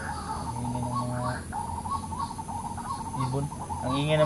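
Birds call repeatedly at moderate distance, with hooting, owl-like notes mixed among chirps over a steady outdoor background.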